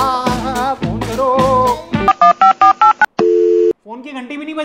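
A landline telephone is dialed, with a run of short, evenly spaced keypad tones followed by a longer steady tone, after voices talking over music.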